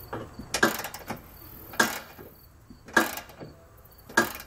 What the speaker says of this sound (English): We're gonna use a 13 millimeter socket to snug those down.